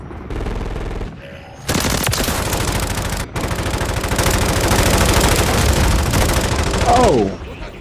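Sustained rapid automatic gunfire in Modern Warfare III pours out in dense, loud bursts, broken by a brief gap and ending in a sharp burst before dropping off.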